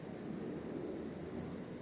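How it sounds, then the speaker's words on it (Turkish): Steady wind buffets the microphone with a continuous low roar and no other distinct sounds. "Rüzgar var yine biraz."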